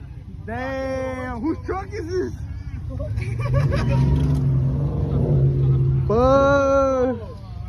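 A truck engine revs loudly at a rowdy truck meet, a sustained roar rising and holding beneath excited shouting and crowd chatter close by.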